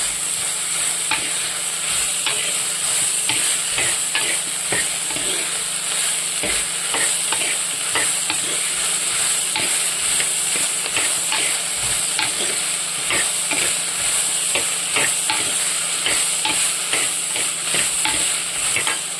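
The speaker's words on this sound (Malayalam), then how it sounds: "നമ്മൾ വെണ്ടയ്ക്ക ഇട്ടിട്ട് ഒന്ന് വഴറ്റി കൊടുക്കാമേ." Sliced okra sautéing in hot oil in a pan, a steady loud sizzle with repeated scraping strokes of a spoon stirring throughout, no talking.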